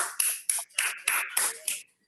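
Short bursts of audience clapping at a holistic healing seminar, about six quick rounds of claps separated by brief silences, fairly close and crisp, with no talk.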